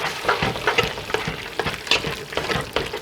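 A spoon stirs chunky chili with tomato and onions in a pot, giving steady scraping and sloshing strokes over a soft simmering sizzle, close and moderately loud with no talking.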